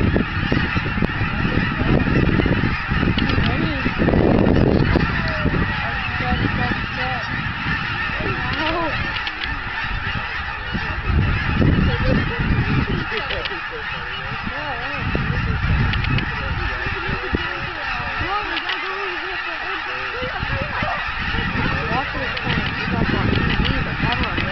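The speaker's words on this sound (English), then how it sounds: "there's two little Ross geese" A large flock of geese, including Ross geese, honks continuously, a dense, loud chorus of overlapping calls with some close birds standing out.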